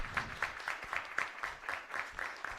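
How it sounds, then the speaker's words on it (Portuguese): Applause for doctors at a municipal council session, a fairly faint and clearly rhythmic round of clapping with regular, evenly spaced claps like a small group keeping time. "Uma salva de palmas aí para os nossos"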